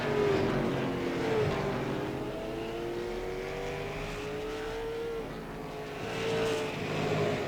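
Late model race cars roar around Langley Speedway, their engines holding a loud sustained drone that rises and falls in pitch as the cars run the back straightaway toward turn three.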